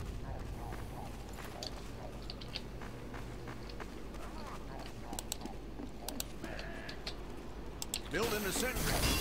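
The sentry gun in the video game Team Fortress 2 gives faint, repeated ratcheting clicks and whirs against a low background hum, with a louder mechanical burst near the end.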